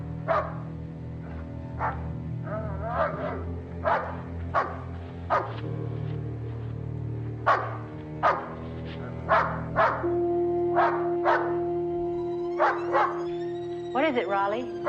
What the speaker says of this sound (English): she was awakened from a sound sleep by the barking of her dog, Raleigh.